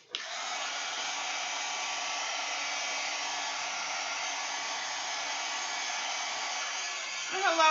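A hair dryer blows steadily on a mixed media art journal page, a loud continuous whooshing hiss that switches on abruptly and runs unbroken for several seconds, with a brief clatter at the end.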